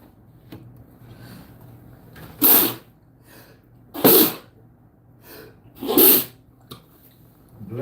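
Three sharp sneezes spaced about two seconds apart, each a sudden loud burst that stands out against a quiet room with faint background murmur.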